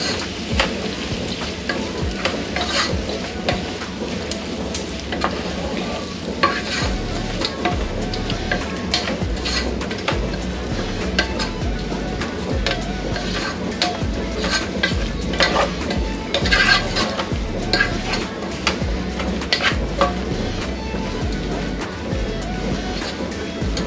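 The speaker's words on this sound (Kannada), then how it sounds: "ಮೂಲಂಗಿ ಹಾಕ್ಕೊಂಡು ಇದನ್ನು ಮಿಕ್ಸ್ ಮಾಡ್ಕೊಳ್ಳೋಣ." Radish pieces with masala stirred and frying in a pan, a steady sizzle with repeated scraping and stirring strokes of a spatula running throughout, close and moderately loud.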